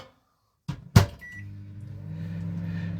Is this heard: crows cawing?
no